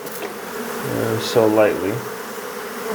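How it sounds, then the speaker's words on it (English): Bees buzzing loudly and close around a hive being removed from a kitchen cabinet, a continuous humming drone with shifting pitch as someone speaks briefly over it. "we're gonna spray a little bit just to get the bees off"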